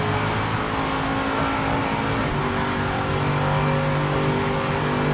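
A Corvette GT race car engine in Project Motor Racing at Daytona drones loudly and steadily, its tone shifting slightly as the revs change, with no voices over it.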